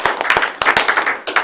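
A small audience claps at a gathering, with a burst of loud, close, uneven handclaps that pulse irregularly rather than building into a full ovation.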